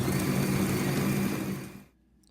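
A food processor mincing chicken for chops whirs loudly and steadily as a close, dense motor drone, then cuts off abruptly and falls quiet near the end.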